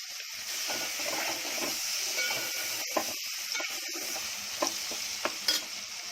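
Bhindi with prawns fries in a pan, Konkani style, under a continuous hissing sizzle, with occasional spatula scrapes and taps as it is stirred, close by and without speech.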